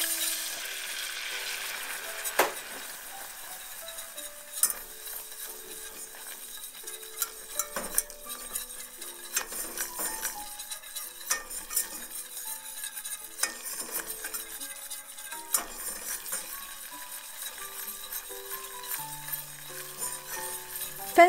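A butter and flour roux being stirred in a pan, with soft scraping and the light clink of a utensil against metal repeating over a faint sizzle, close and steady with no talk.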